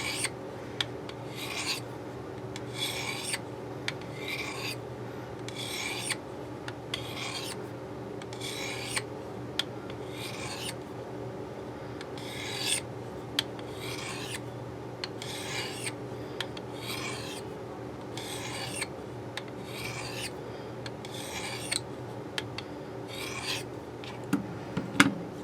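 A knife blade is stroked across a fine ceramic hone in a steady series of quiet, rhythmic scraping passes, close and alone, with no voices.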